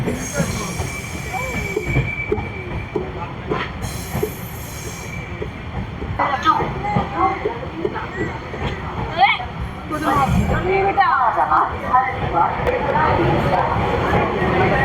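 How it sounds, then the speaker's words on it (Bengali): A 13009 Doon Express train rolls slowly into Ayodhya Dham Junction, its wheels squealing sharply over a steady rumble, with rising screeches and faint voices in the background. "আমরা এখন ধীরে ধীরে অযোধ্যা ধাম জংশনে প্রবেশ করছি।"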